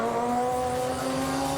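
A Radical race car at Donington Park roars past loud and close, its steady high engine tone filling the whole stretch, with faint tyre noise on a wet track and no talk.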